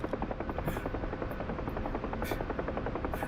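A UH-1H Huey helicopter in the flight simulator game DCS, its rotor thumping in a fast, even rhythm with a steady turbine whine, loud and continuous.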